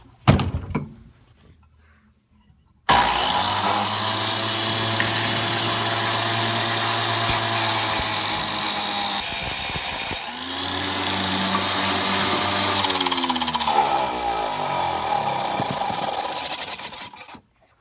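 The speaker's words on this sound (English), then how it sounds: "I'm going to use everybody's favorite tool, the Drill Master Cutoff DIY cutoff saw" A Drill Master DIY cutoff saw cuts through metal. Silence opens, then a loud, harsh grinding whine runs for about fifteen seconds, dipping briefly partway through before pressing on.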